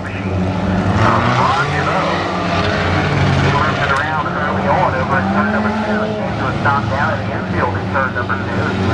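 Race car circling a short local oval track during a Saturday night feature race, a continuous engine roar with rising and falling pitch as it passes, loud and steady beneath an announcer speaking.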